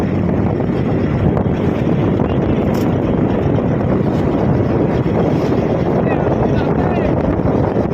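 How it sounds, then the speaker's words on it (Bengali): A trawler engine drones steadily at sea in the Bay of Bengal off the Sundarbans, under heavy wind buffeting, waves and rushing water, continuous and loud throughout. "ট্রলার যাচ্ছে"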